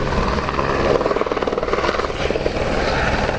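A helicopter in a fast descent during an air show display, its loud, steady rotor chop and engine roar filling the whole clip, with no voices.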